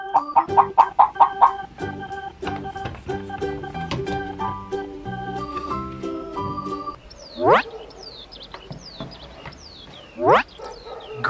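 A chicken clucks in a quick run of rhythmic clucks that thin out into scattered calls, followed by two loud rising squawks spaced a few seconds apart, clear and up close, in a kids' farm-animal sound segment.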